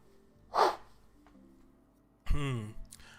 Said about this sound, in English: Was that a sneeze or did you just blow?